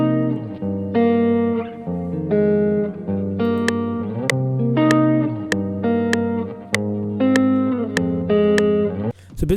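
A processed Afrobeats guitar chord sample plays a repeating pattern of plucked, effect-laden chords with a bright, shimmering attack on each hit, loud and clear with no voices.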